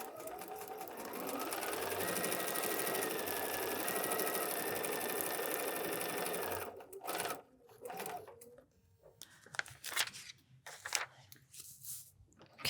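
Home sewing machine stitching a foundation paper pieced quilt block, a steady loud whirring run for about six seconds, then stopping to quieter clicks, handling and rustling of fabric and paper.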